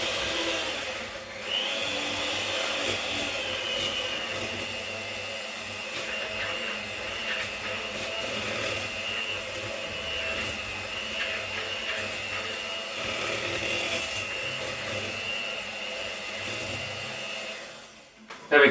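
An electric hand mixer whirs steadily as it blends sugar into peanut butter and white chocolate blondie batter, a constant close buzzing drone that runs almost the whole time before cutting off at the end.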